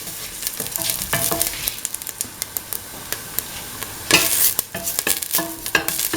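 Fennel seeds sizzle in a hot pan with salt. The frying hiss is steady, broken by sharp scraping bursts from stirring, close and fairly loud, with no voices.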